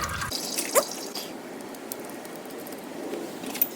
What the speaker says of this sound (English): All the oil gonna come out.